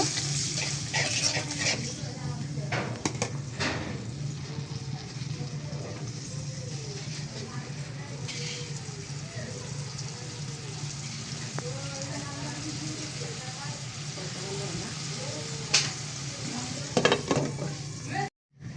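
Spice mix being stirred into frying onion and green chilli in a pan, a continuous low sizzle under scattered scraping and clinks of the spoon against the pan, ending in a short clatter.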